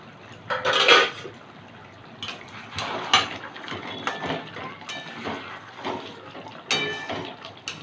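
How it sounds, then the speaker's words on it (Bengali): A metal lid comes off a pot of gondhoraj lime chicken simmering on low heat, with a close clank followed by scattered clinks and faint bubbling. "10 মিনিট পরে ঢাকনাটা তুলে নিচ্ছি।"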